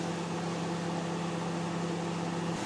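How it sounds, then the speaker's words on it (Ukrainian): Microwave oven running while heating homemade lipstick, a steady low electrical hum with a constant fan whir, close and unchanging, stopping abruptly near the end. "Як бачите, воно ще в мікрохвильовці."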